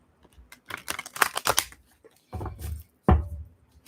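A tarot card deck is shuffled in quick bursts of crisp, flapping clicks, then two heavier riffles, each followed by a short pause. No one speaks.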